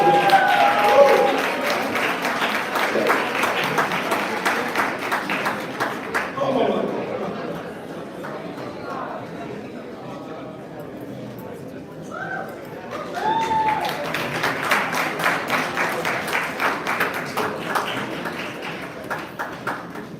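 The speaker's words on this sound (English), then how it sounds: "Give her a big round of applause." Audience applause at an awards gala, a dense patter of clapping that swells, dips in the middle, then rises again, heard close and mixed with crowd chatter.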